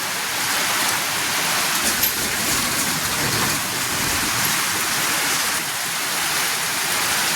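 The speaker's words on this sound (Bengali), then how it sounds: "আর 10:30 থেকে বৃষ্টি চালু হয়ে গেছে" Heavy night rain pouring onto a flooded road, a loud, dense, unbroken roar of falling water with no talk.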